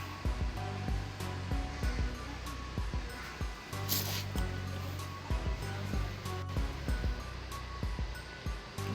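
A carving or shaving tool trims down purple tufted rug yarn, a steady whirring buzz with repeated short strokes and scraping bursts, close and continuous throughout.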